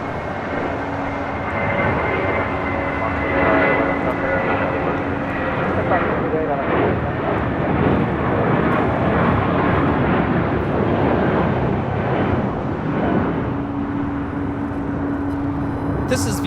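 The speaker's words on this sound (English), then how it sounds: "This is Viva Airbus 511 taking off to Guadalajara on an A320." Viva Aerobus Airbus A320 taking off from runway 25 right at LAX, a steady broad jet engine roar that stays loud and sustained throughout, heard from a distance outdoors with faint radio chatter underneath.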